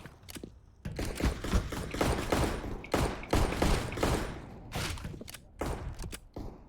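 Video game gunfire rattles in dense bursts of rapid, loud shots with brief gaps between volleys. The shots sound close and continue almost without pause.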